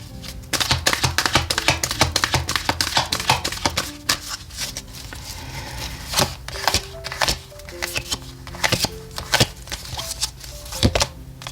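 Tarot cards being shuffled and handled, a dense rapid riffling flutter at first, then scattered taps and flicks of individual cards.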